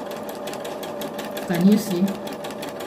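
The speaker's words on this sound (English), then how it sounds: "I will start sewing now." A sewing machine stitches a standard buttonhole, its steady, fast, close mechanical whirr running throughout, briefly louder near the middle, while a person talks over it.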